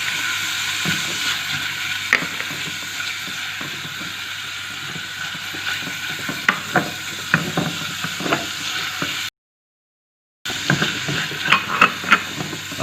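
Sliced onions being stirred and fried for chicken dry chili: a continuous loud sizzle punctuated by repeated scraping, clattering strokes of a spoon in the pan, with a brief full silence near the end.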